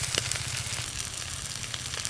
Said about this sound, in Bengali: কাঁকড়াগুলো বেশ ভালো করে ভাজা হয়ে গেল।